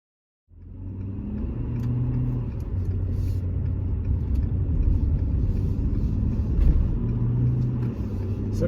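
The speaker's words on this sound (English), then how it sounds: "So now that I've shown this truck splashing around off-road" A 2021 Ford F-250 Lariat Tremor with a Power Stroke diesel, in four-wheel-drive low, driving off-road in rainy weather, its engine making a steady, close low rumble with slight rises in revs throughout.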